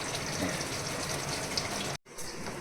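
Water pours steadily into a pot of pointed gourd curry, a close, continuous splashing stream that cuts off abruptly near the end, then briefly resumes.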